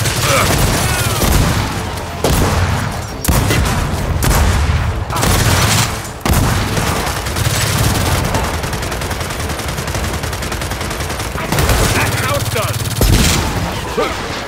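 Repeated bursts of rapid gunfire and heavy shots in the Gears of War 4 video game on Xbox One, loud and sustained across the clip with short pauses between volleys.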